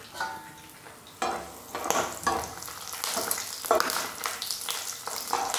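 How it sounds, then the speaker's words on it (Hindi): Edible gum (gond) fries in hot ghee, a soft continuous sizzle that swells into louder bubbling crackles as pieces drop in and puff, close and without talking. "घी गरम हो गया है और इसमें हम इसे डालकर भूनेंगे"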